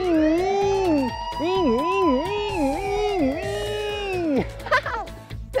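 A voice imitates a police siren, starting with a long steady tone and then sliding up and down in a wailing rhythm, loud and close.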